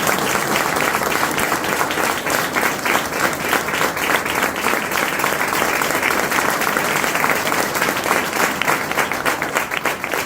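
Sustained, dense applause from a large audience at a business recognition event, loud and steady throughout with no break.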